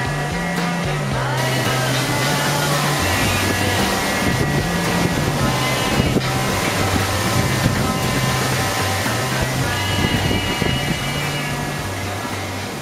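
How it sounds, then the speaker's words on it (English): Hurricane Irma winds roar in continuous, heavy gusts buffeting the microphone, a loud, broad rushing that swells and eases without any talk. "There comes a big gust, and then it calms down."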